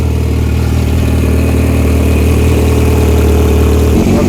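VW Routan minivan engine running loudly just after starting, with a steady, close, rough low rumble and a sudden dip at the very end.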